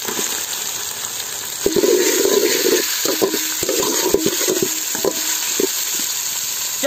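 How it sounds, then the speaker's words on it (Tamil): Chopped onions sizzle loudly in a hot pan while being stirred, with scraping and clattering bursts over a constant frying hiss. "அடுத்து நறுக்குன வெங்காயத்தை எடுத்து சேர்த்துக்கிறேன்."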